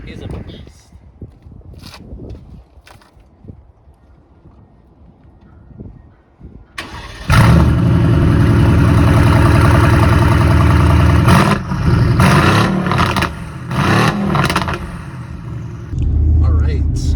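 A Mercedes-AMG GT R engine fires up after quiet shuffling, settling into a loud, deep, steady idle with several sharp blips of revving, then a brief dip and another surge.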